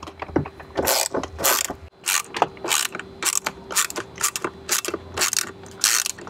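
A ratchet wrench loosens 7-millimeter bolts under the steering wheel trim of a Jeep, giving repeated quick bursts of clicking close up, with short pauses between strokes.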